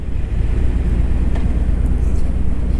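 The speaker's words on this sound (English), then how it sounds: "The engine is just so smooth, and that sound." A 2017 Harley-Davidson Road King Special engine gives a low, smooth rumble that runs steadily throughout, loud and close, with a faint wind-like rush over it.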